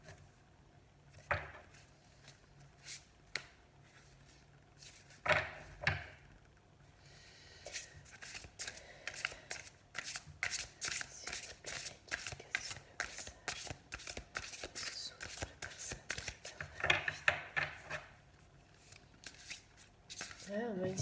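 Cards are shuffled for a reading in a run of dense, papery riffles and flutters that builds to a near-continuous rustle, with a few sharper snaps and some quiet speech early on.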